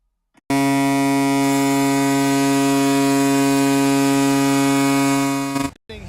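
A long, loud, harsh electronic goal buzzer blares steadily for about five seconds at an NHL hockey arena during Tampa Bay Lightning vs Toronto Maple Leafs, then cuts off abruptly.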